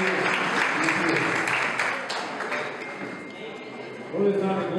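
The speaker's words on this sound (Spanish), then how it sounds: "nos acompañe con fuertes aplausos" Guests at a baptism celebration clap together, steady applause that eases slightly and then swells again toward the end, with voices mixed in.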